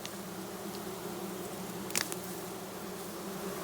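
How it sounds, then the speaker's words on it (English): A queenless honeybee colony in an observation hive gives off a loud, steady drone, with a layered, even hum that fills the whole stretch and a brief sharper rustle partway through. "listen to how loud they are right now while they don't have a queen."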